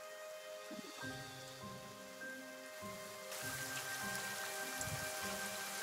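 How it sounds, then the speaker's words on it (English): Light rain falls steadily as a soft, even patter that grows slightly denser and louder partway through, with faint tonal game-like background tones and no talking. "the rain, which was light, begins to pick up in intensity."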